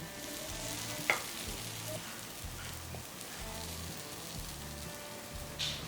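Chocolate rava paniyaram, just flipped, cooks over medium heat in a paniyaram pan with a soft, even sizzle and a single sharp clink early on. No one speaks.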